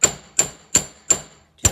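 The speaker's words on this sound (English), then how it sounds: "aiming the center of the hammer at the end of that wire" A hammer strikes the end of a wire to flatten it into a paddle for lampwork earrings. Five sharp, close, ringing blows fall in a steady rhythm, each fading quickly, with no talking.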